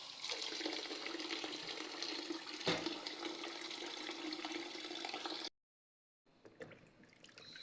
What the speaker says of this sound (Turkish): Suyunun burada süzülmesi lazım.